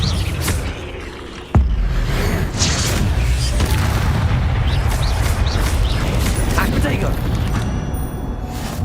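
A fire spell cast in Hogwarts Legacy bursts out with a sharp boom and roaring whoosh, followed by sustained crackling, rumbling flame noise within dense game audio.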